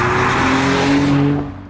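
A Jaguar XJ220 accelerates hard with a loud, rising engine roar and rushing whoosh, close up, before fading at the end.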